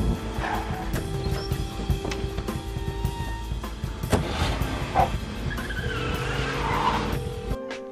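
Car tires skid and squeal in a fast-cut film scene as a drummer rushes to his car, the screech layered over engine noise and music-like tones, fairly steady and close throughout.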